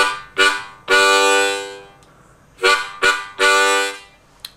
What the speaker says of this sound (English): we breathe in through the first three holes,